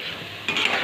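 Pitha filling of sweet potato and mung dal being stirred in a pan, a soft scraping and rustling that grows louder halfway through and continues steadily with faint clinks.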